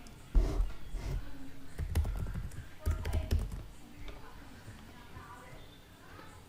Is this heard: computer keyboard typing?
yes